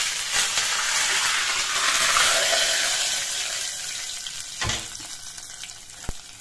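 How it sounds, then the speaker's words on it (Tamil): Hot oil sizzling loudly as curry leaves go into spinach kuzhambu in a pan on a switched-off stove, a bright crackling burst that slowly fades, with a couple of sharp clinks near the end. "ஸ்டவ் ஆஃப் பண்ணிட்டு இப்போ கருவேப்பிலை சேர்த்துக்கலாம்."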